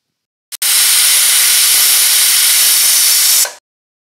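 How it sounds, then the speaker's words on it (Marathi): A pressure cooker on a stove lets out a sudden, loud, close hiss of escaping steam that holds steady for about three seconds before cutting off, with silence before and after. "परंतु आता कुकरच्या शिट्ट्या होतात"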